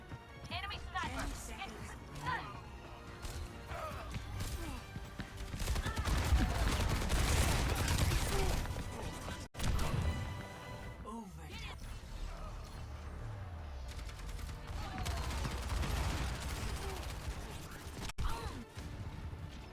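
Enemy sniper gunfire in the Red Dead Redemption video game: dense bursts of shots and impacts over game music and effects, with two sharp loud cracks standing out, while voices talk throughout.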